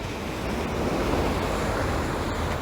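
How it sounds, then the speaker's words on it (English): Small waves break steadily on a beach as a continuous, close wash of surf with a wind rush and no distinct pauses. "the breaking waves crashing into the shore"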